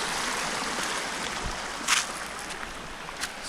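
Steady broadband rush of a stream's running water near a walking trail in Mae-Rim, Chiang Mai, continuous and fairly loud throughout, with a brief splash-like burst midway and no talk.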